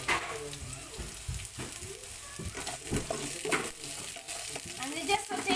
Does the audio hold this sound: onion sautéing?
yes